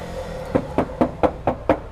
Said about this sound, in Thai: แก้มเดิมๆบาง ๆแบบนี้เลยเคาะไปเสียงดังก้องๆอย่างนี้นะฮะ